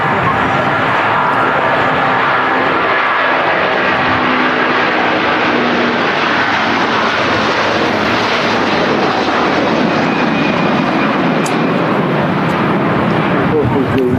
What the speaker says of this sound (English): What a sound from that A330.